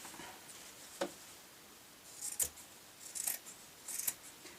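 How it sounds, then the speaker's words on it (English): Scissors make several crisp snips as they trim calico fabric for a sewn cosmetic bag, with scattered cuts and quiet pauses between them. "I'm going to cut up to the calico line with my scissors and trim away all of the excess"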